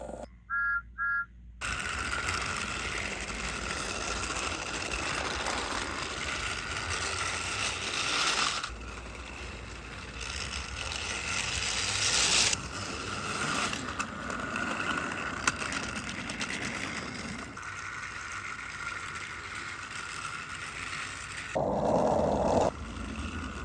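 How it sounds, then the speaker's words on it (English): Construction work near a bridge in a cartoon, a long stretch of continuous mechanical grinding and ratcheting with gear-like clanks, loud and steady, shifting in intensity with a few brief higher accents. "There's construction work happening near the bridge."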